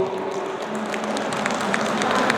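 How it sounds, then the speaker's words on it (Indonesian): Indoor audience at a property product presentation in Karawang claps together, a sustained patter of many hands at moderate distance, starting as a voice trails off and building gently. "Boleh tepuk tangannya Bapak Ibu"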